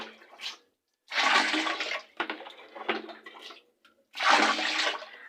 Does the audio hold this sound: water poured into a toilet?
yes